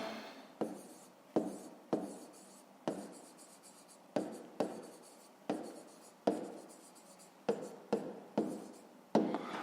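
Ballpoint pen writing on paper during a fifth-grade maths exercise, a quiet steady run of scratchy strokes in short bursts of about a second each, close by with no talking.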